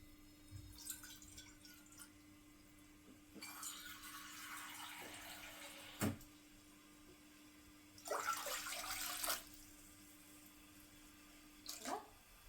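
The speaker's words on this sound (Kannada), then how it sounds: "ಹಾಗಾಗಿ 2 ಬೌಲ್ ನೀರು ಹಾಕ್ಕೊಳ್ಳೋಣ." Water for kharada kadubu dough poured into a pan in several separate bursts with drips in between, faint against a steady low electrical hum in a quiet home kitchen.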